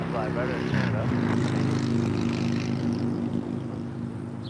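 An Air Canada heavy jet takes off from runway 25 right at LAX, its engines giving a loud, steady roar with a humming, whining tone that holds through the whole stretch.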